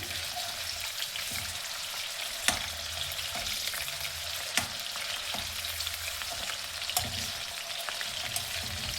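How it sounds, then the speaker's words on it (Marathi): Fish for spicy Nagpuri Savji-style curry shallow-frying in a pan over low heat, a constant soft sizzle with a few sharp pops spaced through it. "कमी आचेवरती फिश छान तळून घ्यायची"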